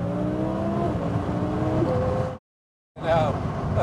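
A 1028 hp twin-turbo Audi R8 engine roars steadily, climbing in pitch as it accelerates, cuts out abruptly for a moment, then surges back in.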